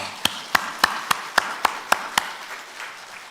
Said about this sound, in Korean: 감사하니까 박수 한번 칠까요